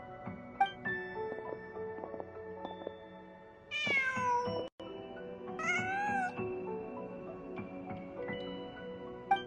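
A cat meows in the video game Genshin Impact, with two distinct meows standing out clearly over a steady background of game music and ambience.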